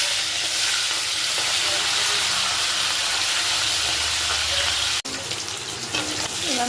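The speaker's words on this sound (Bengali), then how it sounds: "তেলটা গরম হয়ে গেছে, এবার আমি মাছগুলো এক এক করে সব ছেড়ে দিলাম।" Fish dropped into hot oil sizzle and crackle loudly in a steady hiss, broken by a sharp clack near the end before the frying carries on.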